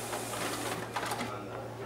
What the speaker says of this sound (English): And there we have our document feeder working